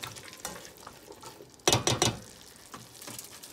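A spoon stirs a pot of chicken and lima bean soup with potatoes, giving a few soft scraping and clinking strokes with a louder cluster of knocks midway, close and fairly quiet.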